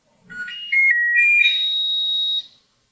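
Electronic beeping tune from a household device, a short sequence of clear pure tones stepping up in pitch, ending in a longer held high beep, alone and close.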